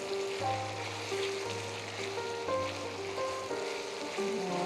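Onions sizzle steadily in a hot frying pan, a continuous crackling hiss, with soft musical tones playing in the background.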